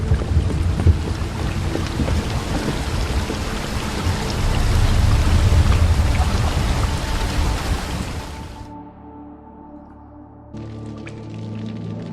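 A river current rushes steadily in The Witcher 3: Wild Hunt, a loud, dense wash of flowing water that cuts off abruptly near the end, leaving quieter ambient tones and a faint hiss.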